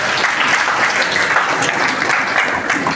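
Audience at a school event with an MLA claps steadily for about three seconds, a dense, even, fairly loud wash of applause with no pauses.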